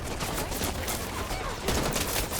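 Sustained automatic gunfire rattles in the Wild Assault animal-warfare shooter, a dense, steady stream of shots heard at moderate distance for a couple of seconds, with a slight surge near the end.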